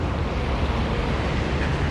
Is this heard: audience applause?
no